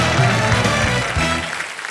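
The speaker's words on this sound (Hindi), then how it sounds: "तालियां" Studio audience applause on a Hindi-language Wheel of Fortune game show, a short loud burst of dense clapping with music underneath, fading slightly at the end.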